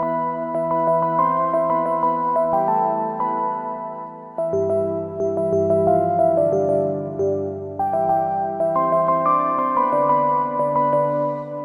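Synth preset from Kontakt 8 Factory Library 2 driven by the phrase tool, playing layered sustained chords and moving melodic lines in a steady, loud pattern with brief gaps between phrases.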